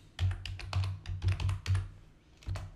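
Short bursts of computer keyboard typing, a rapid run of keystrokes in several clusters with a brief pause before a final burst, entering a command in a terminal to check the installed .NET version; close and clear, with no talking.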